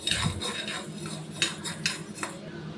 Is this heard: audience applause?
no